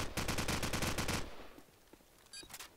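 AK rifle fire in a Counter-Strike match: a rapid, loud automatic burst of about a dozen shots lasting just over a second, followed by quieter scattered game sounds and a few faint later clicks.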